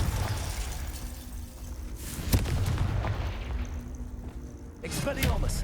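A Confringo fire spell in Hogwarts Legacy goes off as a sharp blast at about two seconds, with a rumbling burst after five seconds over a low, continuous game backdrop.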